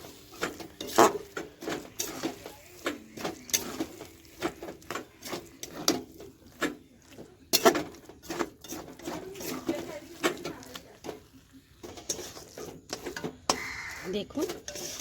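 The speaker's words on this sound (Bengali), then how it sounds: "এবারে পুরটাকে আমি একটা নেড়ে চেড়ে রেডি করে নেব" Chicken filling with soy and tomato sauce gets stirred in a pan, with irregular scraping clinks and soft patting from a utensil, close and moderately quiet under someone talking in Bengali.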